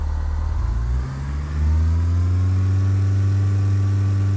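An aircraft engine is pushed to full takeoff power for a takeoff in Flight Simulator 2004. It drones loud and steady, dips briefly, then climbs to a sustained higher-pitched roar that holds to the end.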